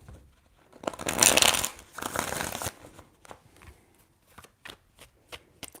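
A deck of tarot cards is shuffled nearby. A dense riffle burst builds and fades over about two seconds, then gives way to scattered soft taps and flicks.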